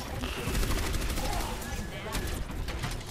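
Rapid gunfire from the Overwatch video game, played as dive Orisa, crackles continuously in dense bursts under other in-game effects and a voice chat conversation.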